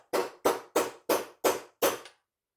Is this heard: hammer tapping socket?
yes